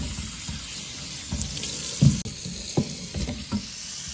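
Tap water runs steadily into a sink while pieces of goat meat for Jamaican brown stew are rinsed, with soft splashes and a few louder knocks against the basin.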